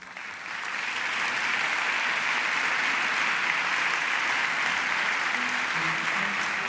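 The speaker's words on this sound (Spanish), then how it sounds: "Un aplauso para Elena de Andrés, psicóloga, coordinadora terapéutica de la Fundación Pascual Maragall." Loud, sustained applause fills an auditorium for a speaker, a dense wall of clapping that swells in and then holds steady, with faint voices underneath.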